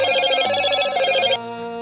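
An electronic telephone ringtone trills steadily for over a second, then cuts off abruptly, leaving a faint lingering tone.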